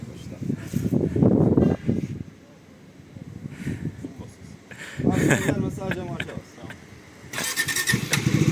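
A Bajaj Dominar 400 motorcycle starting in neutral: a loud near engine cranks and catches in short bursts, separated by quieter gaps, with people talking over and between the starts.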